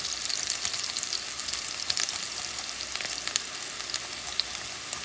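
Minced garlic sizzles and fries steadily in a pan for a crabmeat dip, a constant bright crackle with small pops, close and alone without talk.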